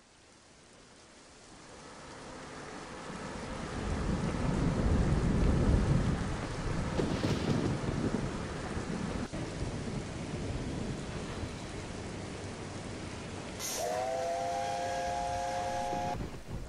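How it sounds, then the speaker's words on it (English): A thunderstorm with steady rain, low rumbling thunder swelling and fading, then a distant train whistle sounding near the end. "there's a storm coming"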